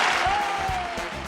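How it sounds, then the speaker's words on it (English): Studio audience applause for a live sketch comedy show, brief dense clapping at moderate volume, with a voice talking faintly over it. "Quite seriously, and that is the applause."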